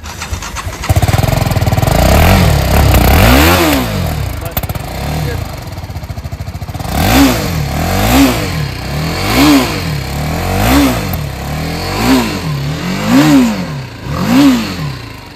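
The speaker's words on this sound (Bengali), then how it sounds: "আর একবার এক্সস্ট সাউন্ডটা গাইস তোমাদের শুনিয়ে দিচ্ছে দাদা।" A used motorcycle at a showroom near Kolkata revving its exhaust: a loud, close engine repeatedly blipped, with rising and falling revs in a steady series of pulls over a running idle.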